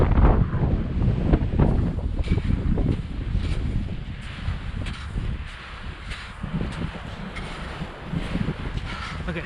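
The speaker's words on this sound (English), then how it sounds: "the wind's really blowing from the west to the east" Strong wind roars steadily across a snowy volcanic mountain slope in freezing temperatures, buffeting the microphone loudly and continuously with gusty surges throughout.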